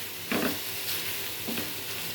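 Poniganti greens fry in a pan with a soft steady sizzle, broken by a few brief stirring scrapes, quiet and close with no talking.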